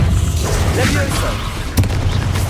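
A Confringo spell blast in Hogwarts Legacy erupts as a loud, rumbling boom that sustains for a couple of seconds, with a sharp crack near the end.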